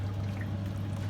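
Braised lamb shank cooking liquid is poured through a strainer, making a steady, close wet pouring and trickling sound that stays even throughout.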